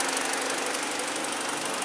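A BMW 318i engine runs steadily at idle after a misfire fix, with an even mechanical hum and a fine ticking texture throughout and no talk over it.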